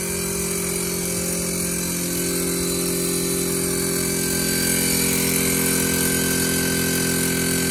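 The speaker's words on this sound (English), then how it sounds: "now it sounds like it's pressurizing" An air compressor pressurizing the air tank for helper bags on a lowered Chevy OBS dually pickup, a steady droning motor hum with constant tonal whine, running unbroken throughout.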